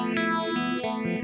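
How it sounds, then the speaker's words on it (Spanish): A sustained, heavily harmonic guitar chord runs through a Phase 95 phaser modulation pedal on a pedalboard, its tone sweeping in a steady rhythmic whoosh, loud and close, with no voices. "un poco de modulación del Phase 95"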